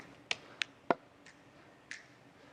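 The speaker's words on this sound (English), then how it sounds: "Now let's add clapping." A few sharp, quiet hand claps ring out at irregular intervals, about five in under three seconds, between club juggling throws, with near silence around them.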